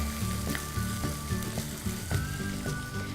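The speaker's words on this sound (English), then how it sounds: "Once it starts turning lightly golden, we're going to add our capsicum. Give this a good stir." Capsicum sizzling in hot oil as a stir-fry for cauliflower with fried noodles, a loud continuous crackle with rhythmic scraping stirs, no talk.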